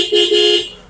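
A car horn blares in two loud, sustained honks close by, the second held longer before the sound fades out.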